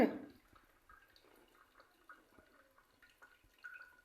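Water drips faintly from a bottle in a simple balloon-powered water pump experiment, with small irregular droplet ticks over a quiet background after a brief louder sound at the start.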